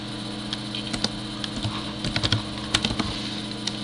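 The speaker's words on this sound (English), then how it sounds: "we'll type in criteria" Quick, close keystrokes on a computer keyboard, a short run of light clicks in an uneven rhythm over a faint steady hum.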